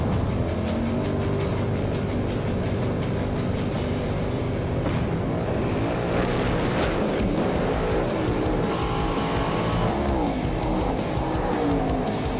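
An S10 pickup with a big block Chevrolet engine and cold box nitrous system drag racing, a loud sustained engine roar with tire noise throughout, no talk.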